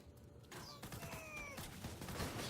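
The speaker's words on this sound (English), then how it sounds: "the grenade I'm throwing there is the lobbed Pandemic" A lobbed Pandemic grenade goes off in Borderlands 2 amid chaotic combat, with a sharp blast followed by crackling, whistling effects and a sustained noisy rumble at moderate volume.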